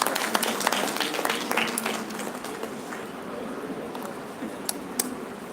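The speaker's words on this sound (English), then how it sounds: "So with a huge round of applause, kindly welcome Akash Dandapani." Audience applause welcoming a speaker at a youth conference session, scattered clapping that is fuller at first and then tapers to sparse claps.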